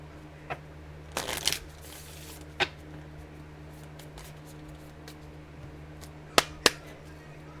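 A card pulled from a deck, a quick papery flick and shuffle close by, followed by a few sharp taps and clicks scattered across an otherwise quiet stretch.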